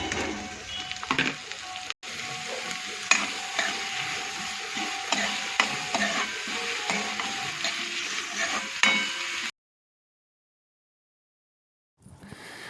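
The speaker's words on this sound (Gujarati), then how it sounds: "ચાલો મિત્રો હવે આપણે ડુંગળી જે સમારી છે તે નાખી દઈએ." Chopped onion fries in a pan for curry, sizzling continuously while a spatula scrapes and stirs with repeated strokes, then the sound cuts to silence before a faint return at the end.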